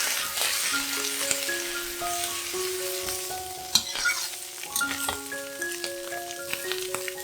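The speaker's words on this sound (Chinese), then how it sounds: "下适量的油，将芋头倒入锅里炒一炒。" Taro pieces stir-fry in oil in a wok for a home-style vegetarian dish, with a steady close sizzle broken by occasional scraping stirs. A gentle melodic tune plays softly underneath.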